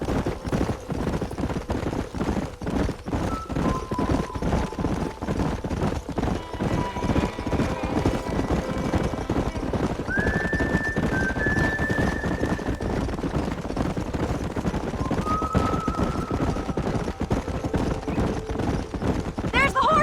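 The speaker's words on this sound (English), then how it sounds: "There's the horses!" Hooves of galloping horses in the Western video game Red Dead Redemption drum in a rapid, continuous rhythm for the whole stretch, with faint whinnies and brief voices over the pounding.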